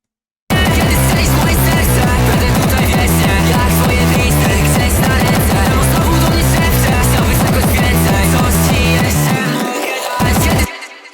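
A Frenchcore remix draft built in Ableton pounds along with a dense, loud, distorted kick on a fast regular beat, layered with vocal, instrumental and bass line, running unbroken before stopping abruptly near the end.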